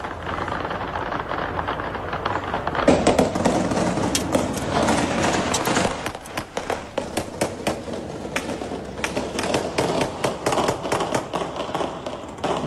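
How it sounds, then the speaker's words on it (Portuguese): Gunshots fired at drones near a palace in Venezuela crackle in rapid, irregular bursts of sharp distant-sounding pops over a constant rumbling background, with no talk. "Moradores dos arredores do palácio divulgaram os disparos nas redes sociais."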